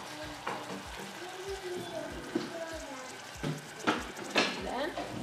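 Amaranth leaves (bondwe) are stirred in a pot, salted while they finish cooking, with a soft sizzle and a few light scrapes and knocks of a utensil against the pot, under quiet talk.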